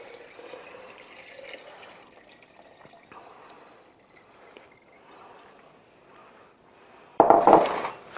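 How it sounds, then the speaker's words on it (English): Brine pours over homemade cheese in a container, a loud liquid splash bursting in near the end after several seconds of quiet trickling and faint handling sounds. "So we're just going to pour in our brine."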